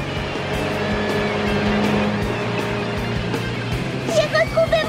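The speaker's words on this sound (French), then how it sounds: "On prend le bateau à l'instant." Motorboat engine droning steadily and loudly under the scene, a continuous low rumble with a few sharper rising tones toward the end.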